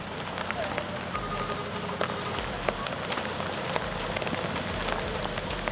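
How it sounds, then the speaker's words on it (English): Rain falls steadily in an outdoor riding setting during a horse eventing session, making a dense, even patter with scattered drop ticks over a low rumble of wind. "I forgot about the rain for a minute then."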